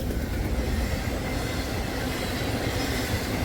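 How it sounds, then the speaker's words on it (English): A UPS freight train of 264 axles rumbles steadily past at close range, a continuous heavy roar of wheels on rails with no voices. "UPS train, of course."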